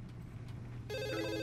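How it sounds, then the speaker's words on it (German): A telephone starts ringing partway through, a bright, steady electronic ring cutting in over a low ambient rumble in the video game The Assembly. "Ach, jetzt läutet wieder das Telefon."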